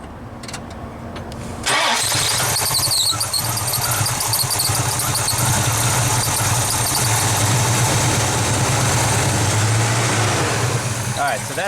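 Hot rod engine with a leaking fuel line cranks and catches after a quiet moment, then settles into a loud, rough, steady idle with squealing overtones, while people talk nearby.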